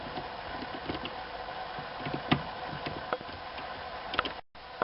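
Thin Torx T10 screws being driven to fasten a switch in a VW Passat 35i dashboard, with a steady run of small ratcheting clicks and close mechanical ticks over about five seconds.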